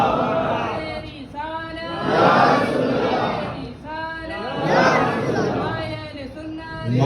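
A crowd at a Milad celebration chants Naara-e-Risalat slogans in loud, rhythmic swells, with voices rising and falling in repeated waves of massed shouting.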